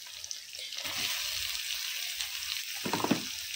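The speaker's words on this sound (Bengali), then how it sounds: "ভালো করে ভাজা হোক, টমেটোটা গলে যাওয়া পর্যন্ত।" Tomatoes and green chillies fry in a pan with a continuous close sizzle, swelling into louder spluttering bursts as they are stirred, with no talking.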